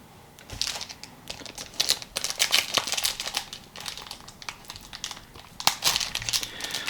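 Foil wrapper of a Disney 100 Weiss Schwarz trading card pack being torn open by hand, with close, crisp crinkling and tearing bursts over several seconds, no talking.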